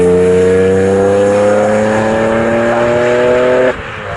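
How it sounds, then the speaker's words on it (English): An Alfa Romeo race car at Snetterton circuit, trailing smoke with a possible engine problem, roars past close and loud with a steady rising engine note, then cuts off sharply near the end. "Smoke out of Scott Richard Austin as he goes through"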